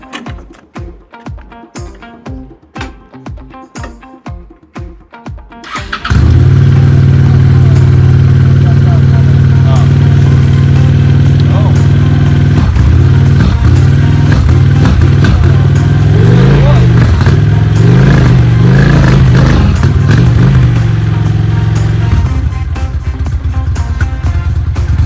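Honda Shadow motorcycle with a just-unclogged fuel petcock, first cranking in rhythmic starter pulses for several seconds, then catching and settling into a loud, close, lumpy idle with occasional small revs while warming up.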